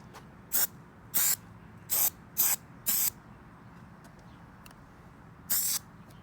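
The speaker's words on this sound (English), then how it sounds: "WD-40 works great on excess paint." WD-40 sprayed to remove excess paint while a Willys CJ3B Jeep is prepared, six short, close hissing bursts in quick succession with a longer gap before the last.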